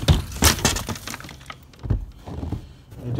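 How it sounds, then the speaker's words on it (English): Safety glass shatters and breaks apart in a sharp crash, followed by a few scattered clinks and thuds of pieces settling close by. "Shatter safety glass."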